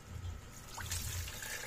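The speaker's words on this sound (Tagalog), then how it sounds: "lagyan ko na ito ng tubig" Water is poured into a pot of ginisang monggo, a sautéed mung bean stew, giving a faint, brief trickle and splash over low kitchen background noise.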